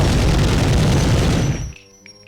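Gunfire in the Medal of Honor video game rolls as a heavy, booming barrage of overlapping shots, loud and dense, then cuts off abruptly near the end into near silence.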